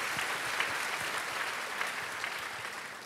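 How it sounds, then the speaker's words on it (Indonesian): A church congregation applauds during a Sunday worship service, a dense and steady clapping that fills the whole few seconds with no voices over it. "Kasih tepuk tangan bagi Tuhan Yesus."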